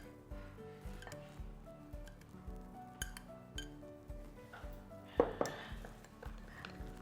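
A spoon clinks and scrapes against a bowl while an oil and spice marinade of garlic, curry powder, chili powder and thyme is mixed for grilled fish, a rhythmic series of close, light taps.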